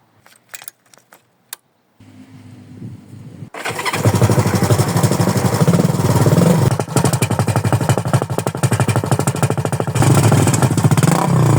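A 1973 Honda CB350 K4 motorcycle with a blown-out exhaust baffle: keys jangle, the engine cranks and fires, then idles with a loud, raspy, throaty rapid exhaust beat, close and steady, no talking.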